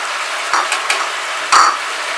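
Vegetables dropped one by one into hot oil in a pan, a close, steady sizzle with two brief louder splashes as pieces land, no voices.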